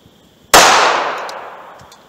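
A single sharp .380 ACP gunshot firing an 85 grain Silver Tip round into wood cracks loudly and close, then rings out and decays slowly.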